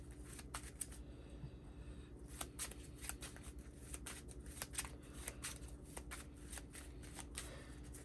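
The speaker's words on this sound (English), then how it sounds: "shuffle my deck" A deck of cards for the Ward card game being shuffled by hand, a steady run of crisp riffling bursts close up over a low background hum, with no talking.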